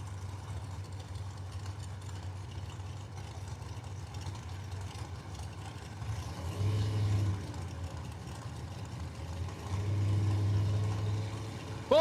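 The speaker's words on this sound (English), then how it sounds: "Gorgeous Camaro versus Firebird on the starting line right now." A Camaro and a Firebird drag car idle on the starting line at Cordova Dragway, giving a steady low rumble with two brief swells as the engines are revved a little.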